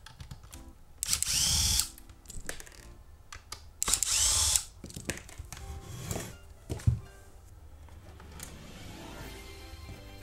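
Power screwdriver removing hidden tri-wing screws from a Nintendo Wii case, two loud whirring bursts of a couple of seconds each, with clicks, clunks and handling noises between them, close up and without talk.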